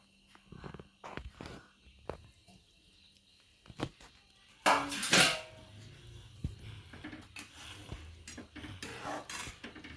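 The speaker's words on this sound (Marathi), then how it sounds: "आता आपण हा खीस घालून घेऊया याच्यात." Grated coconut tipped into sugar syrup in a pan, with a burst of scraping and rustling in the middle among scattered clinks and knocks of utensils and cookware, fairly quiet and close.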